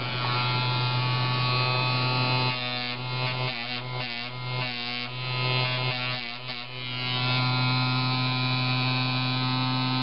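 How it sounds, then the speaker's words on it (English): A rechargeable Dremel rotary tool with a flap of tape on its tip runs continuously, a loud, close electric buzz with a rapid fluttering stretch in the middle as the tape slaps. "This is a rechargeable Dremel tool with a flap of tape on the end."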